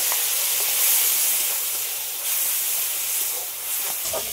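A little water poured into a hot cooking pan holding mustard paste sets off a steady, bright sizzling hiss, swelling and easing slightly as the steam rises.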